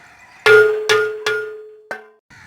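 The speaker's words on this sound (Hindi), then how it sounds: "पानी डालने के बाद हम इसको ढक देंगे।" A metal lid placed onto a large cooking pot (deg) filled with water for chana pulao, four sharp ringing clangs with a lingering metallic tone, the last one lighter, close and clear with no talk.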